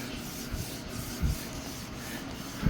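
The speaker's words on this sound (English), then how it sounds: "So I'm just gonna keep rubbing this top" Cloth rubbing grease out of a BMW E85 Z4 convertible soft top, a quiet, steady scrubbing rasp with a few louder strokes, close up and without talk.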